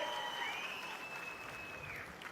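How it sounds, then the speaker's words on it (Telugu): A crowd at a chief minister's public speech in Chirala claps steadily, the applause faint and distant, with a thin electronic whine from the sound system drifting over it. "గట్టిగా చేతులు చప్పట్లు కొట్టి హర్షాన్ని ఆమోదం తెలియజేయండి"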